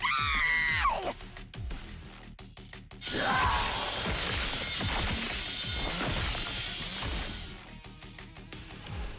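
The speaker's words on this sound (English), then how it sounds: "The Kako zombie has such a funny scream." A zombie in a video game lets out loud, harsh screams amid crashing and smashing combat noise, with a high shriek at the start followed by a dense stretch of thuds, impacts and shrill cries.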